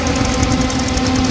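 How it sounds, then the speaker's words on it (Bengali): A boat engine throbs loud and close as it passes near an island, a rough, knocking drone with a steady low hum and no voices. "ওই একটা বোট যাচ্ছে।"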